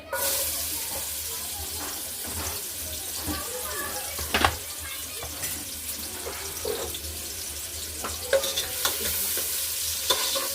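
Ground mutton masala dropped into hot oil sizzles steadily with sharp crackles and scraping stirs, close and moderately quiet, with some faint talk in the background.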